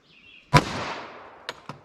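A 5.3-inch Glock 41 fires a Winchester .45 ACP round, a single sharp, loud close shot whose echo trails off, followed by two fainter clicks.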